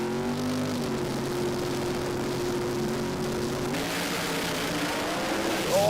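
Drag race car launching at a Brisbane drag racing event, its engine note loud and sustained with rising harmonics and a rough, shaking roar as the tyres struggle for grip, nearby crowd and ambience behind it.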